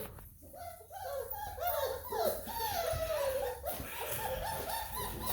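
Jagdterrier puppies whimper and yip in a steady, busy stream while playing with a bird close by, with high squeaky cries running almost continuously through the clip.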